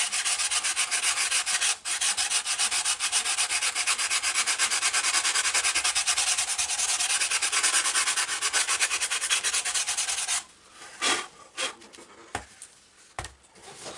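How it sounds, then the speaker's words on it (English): A tack rag rubs and wipes sanding dust off a balsa wood model glider fuselage, giving a close, steady, continuous scratchy rubbing for about ten seconds before breaking into a few short, separate strokes. "we'll take a tack rag and clean all this sanding dust off of the"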